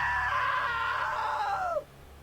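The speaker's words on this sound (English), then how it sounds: "Now that was a great scream." A loud, drawn-out scream from a character in the video game What Remains of Edith Finch, pitch sliding downward before cutting off abruptly, heard alone over a low hum.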